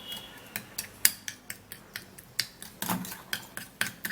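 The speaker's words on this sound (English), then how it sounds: "a bowl and then mix it up really good" A utensil scrapes and taps in a bowl while mixing Colgate toothpaste. The result is a steady series of light clicks and rubbing scrapes, close and fairly quiet, with no speech.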